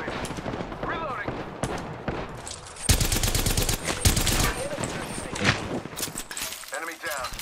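Apex Legends gunfight with repeated automatic weapon bursts and single shots, loud and close, mixed with game voice lines and effects.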